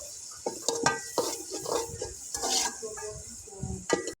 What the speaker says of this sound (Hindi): टमाटर और हरी मिर्चें डालने के बाद अच्छे से 2 से 3 मिनट तक इसको इस मसाले के अंदर फ्राई करेंगे।